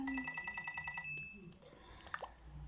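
Peach's phone rings in Mario + Rabbids Kingdom Battle: a bright electronic ringtone pulses about eight times in a quick, even rhythm, then stops before a few soft game chimes.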